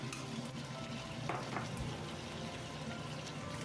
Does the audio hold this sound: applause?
no